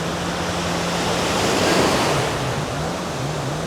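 Big ocean waves break and wash steadily on the beach at Playa del Carmen, a dense continuous roar of surf with wind noise and no talk.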